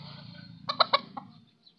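A disabled chicken, a fighting-breed bird, gives a quick run of four or five clucks close up, loud and clear over a low hum of background noise.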